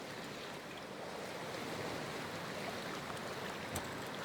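Steady wash of water, like surf or sloshing, as a character wades into freezing cold water in Cyberpunk 2077; a constant, moderately soft rush with no voices.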